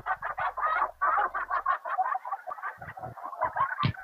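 A nearby duck quacks in a rapid series of loud, choppy calls, continuous and insistent, with a few sharper squawks toward the end and no voices over it.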